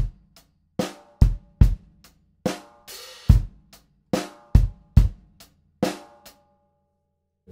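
Drum kit groove, a steady pattern of sharp close hits with an open hi-hat washing out between strokes, ringing alone at moderate loudness.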